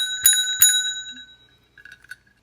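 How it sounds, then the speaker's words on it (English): An old service bell is struck twice in quick succession, each bright metallic ding ringing out and fading slowly, followed by a few faint light taps. "Here's a beautiful old service bell."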